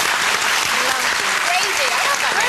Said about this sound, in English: I think she deserves a round of applause after 38 hours in labour as well.